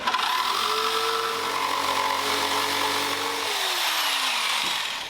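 A power saw notches a maple countertop for a sink, its loud continuous whine holding steady with a shifting pitch before winding down near the end, close and alone.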